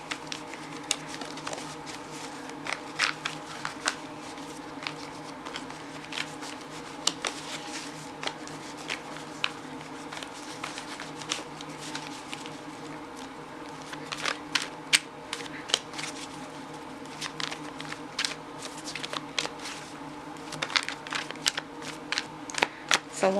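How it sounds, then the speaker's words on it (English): Soft, rapid flicking and riffling of tarot cards being shuffled, repeated in bursts over a low steady hum, close and quiet with no talking. "please excuse me while I shuffle off screen"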